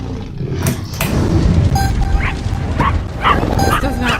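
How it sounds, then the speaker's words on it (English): Puppy sounds play from a drum machine app: repeated short yips and whimpering barks in an uneven, tapping rhythm, loud and near, mixed with a speaking voice. "I do like the puppy sounds though."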